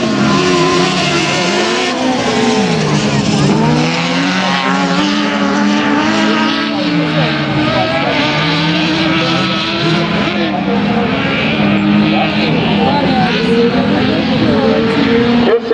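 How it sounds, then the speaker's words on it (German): A race car at an NAVC 2016 race meeting skids and spins out, its engine wailing and rising and falling in pitch under continuous loud racing noise. "er kann sein Auto leider nicht mehr auffahren, schleudert dadurch auf"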